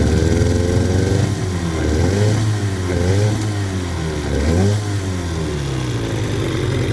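A 1973 Johnson 20hp outboard motor with a low, loading-up idle is revved to clear it out. The engine is loud and close, and its pitch swells and falls back through several throttle blips.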